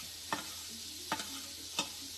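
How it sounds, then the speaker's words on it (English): Coconut chicken sears in a hot pan with a steady frying hiss, broken by three brief scraping stirs close by, and no voices. "You want to hear that sizzle."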